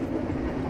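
KA Dharmawangsa executive-class train traveling overnight from Surabaya to Jakarta, heard as a brief, steady, loud rolling rumble of wheels on rails, with no talking.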